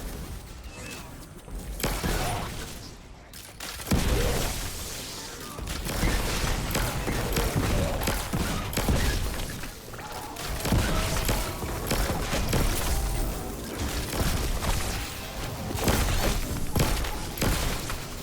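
Rapid gunfire from the Barry Bloodline gun in a video game, a dense continuous stream of shots and impacts with game effects, loud and sustained, with a brief lull near the start.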